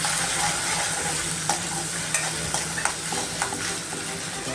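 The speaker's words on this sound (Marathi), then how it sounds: "लसूण आलं मिरचीची ताजी पेस्ट भरडसारखी आपली ती परतून घेऊया." A fresh, coarse paste of garlic, ginger and chili sautés in a hot pan with a continuous loud sizzle and periodic stirring scrapes, nothing else audible.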